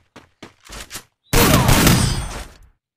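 Video game gunfire during a shooter match with headshots, a few short bursts of shots followed by a loud sustained volley that fades out.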